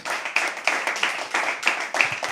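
Audience applause at a live poetry open mic, steady rhythmic hand clapping close by, pulsing in regular bursts through the whole stretch with no talking over it.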